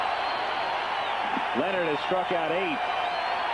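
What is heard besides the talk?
baseball stadium crowd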